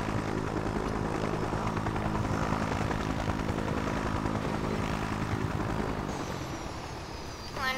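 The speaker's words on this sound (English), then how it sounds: "I get in the helicopter. And I come over here. And I'm gonna land right here." Helicopter in Just Cause 3 flying in and setting down, a steady loud rotor and engine drone throughout that eases slightly near the end, with a higher whine rising in the last seconds.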